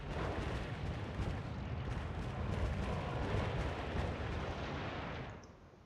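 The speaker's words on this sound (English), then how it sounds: "Let's get rid of some of these burned out buildings." Demolition of burned-out buildings in the city-building video game SimCity: a dense, continuous crumbling rumble with scattered popping debris that holds steady for about five seconds before cutting off.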